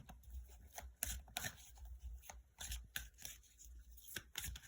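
Tarot-style cards are handled and shuffled close up, with quiet, repeated papery riffles and soft slaps in an uneven rhythm.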